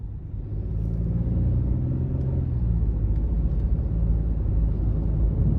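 A 2025 Ford Bronco Sport Big Bend with the 1.5-liter turbo three-cylinder accelerating, a steady low engine drone and road rumble building after the first second and holding loud and even from inside the cabin.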